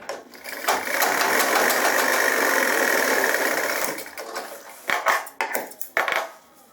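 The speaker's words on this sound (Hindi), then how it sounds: "अब ये जहां सामना बैठता है वहां ये सिलाई आप कंप्लीट कर लीजिए।" A sewing machine runs in one steady, loud burst stitching a pant seam during gents' tailoring alterations, then slows into short, uneven start-stop bursts with clicks.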